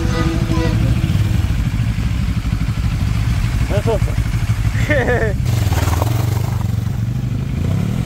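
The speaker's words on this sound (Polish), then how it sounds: "I oczywiście motocykl, którym jadę" A Benelli TRK 702 motorcycle engine drones steadily throughout while riding, close and loud, with a voice speaking over it in short bursts.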